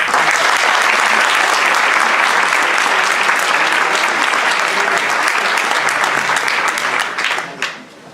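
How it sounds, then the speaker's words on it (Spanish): Loud, dense audience applause at a public health lecture, sustained clapping that fills the room evenly and then tapers off near the end. "a José Carlos Escudero, que le pedimos un aplauso"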